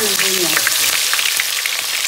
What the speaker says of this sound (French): dans un premier temps, je fais revenir mes oignons